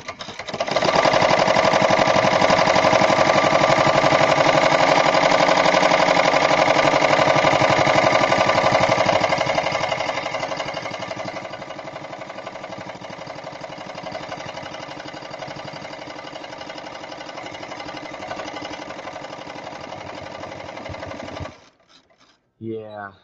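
An embroidery machine stitching a penguin design runs in a loud, continuous rapid whir of needle strokes that softens partway through, then stops abruptly near the end.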